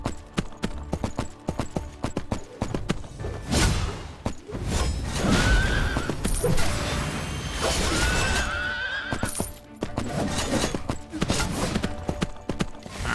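Horses in the Three Kingdoms Zhao Yun video game neigh and whinny loudly several times over a steady clip-clop of galloping hooves, with battle whooshes and impacts mixed through the busy game soundtrack.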